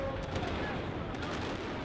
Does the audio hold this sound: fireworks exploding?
yes